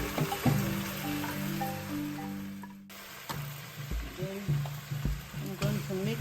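Vegetables sizzle as they are tipped into a hot frying pan, with steady frying hiss, scraping and clatter of stirring, a cooking pot, and a person talking over the sounds.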